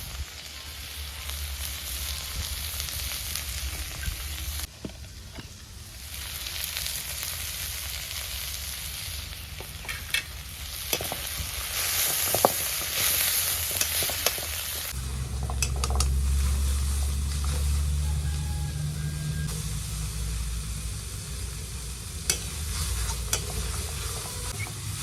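Khutura greens with onion frying and being stirred in a pan, a steady sizzle with scraping stir strokes that changes to a louder, bubbling hiss partway through.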